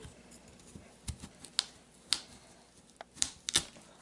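Knife slicing through a peeled cassava root to halve it, heard as a few sharp, close cuts and clicks spaced irregularly over a quiet background.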